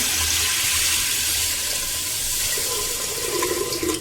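Water pours steadily into a pot of washed whole mung dal in a continuous rushing stream, close and fairly loud, with no voices over it.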